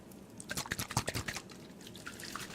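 Water from a spray bottle, a quick series of about a dozen sharp, close misting spritzes in a burst, then quieter scattered spritzes fading off, soft and intimate with no talking.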